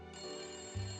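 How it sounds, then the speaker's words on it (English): A telephone rings in the detective puzzle game Layton Brothers: Mystery Room, a short steady electronic ring that starts abruptly and stays even for about a second, followed by a low thud. "that's the phone"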